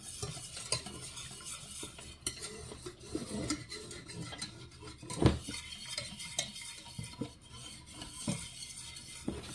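A spoon stirs coq au vin in a pot, scraping and clinking against the metal with uneven rhythm over a faint sizzle, plus one sharper knock near the middle.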